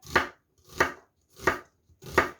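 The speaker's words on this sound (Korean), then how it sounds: "요거는 너무 얇지 않게 채를 썰어 주시는 거예요" A knife cuts onion into strips, not too thin, on a board for a Korean squid fish-cake stir-fry side dish: four distinct, evenly spaced chopping strokes, close and fairly loud, with no talk.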